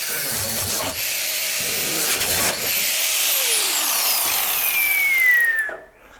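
Angle grinder cutting disc bites aggressively through thin sheet metal during a Peugeot 106 rear-drive BMW engine swap, a loud continuous high-pitched whine and rasp that holds steady, then tails off and stops near the end.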